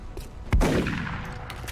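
A single gunshot in the XCOM Long War video game: a sharp, loud blast with a decaying rumble tail, preceded by a few faint clicks.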